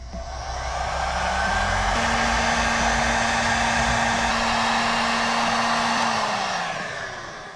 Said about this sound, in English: then I've got my heat gun to heat shrink it